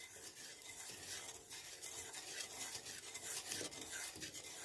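Sugar stirred into water in a bowl, a continuous soft scraping and swirling, faint and close with no voices.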